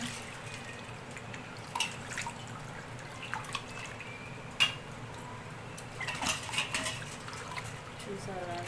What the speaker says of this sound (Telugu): నేను గిన్నెలో వాటర్ అయితే తీసుకొని కడుగుతున్నాను